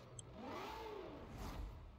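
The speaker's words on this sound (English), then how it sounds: "engine sound" A Ford Mustang in the Forza Horizon 4 racing game revs up, its engine note rising and falling in one smooth sweep and then surging again, fairly quiet and with no talk.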